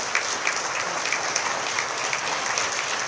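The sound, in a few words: applause for the president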